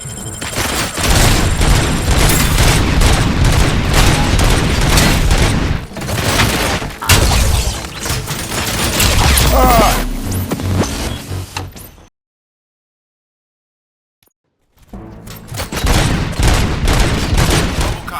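Dense, loud bursts of rapid gunfire and booms from the action scene of the video game RoboCop: Rogue City, continuous for long stretches, broken by a few seconds of silence before resuming.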